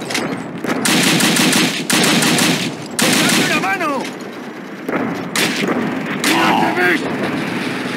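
Rapid machine-gun and rifle fire against German troops in the World War II game Call of Duty: Roads to Victory, loud sustained bursts with short pauses, with soldiers shouting between volleys.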